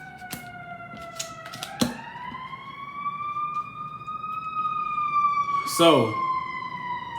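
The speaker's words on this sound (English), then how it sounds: "Sorry, guys. Got sirens." A wailing siren rises and holds a long, steady tone, with brief knocks and a short voice early on and a sharp burst near the end.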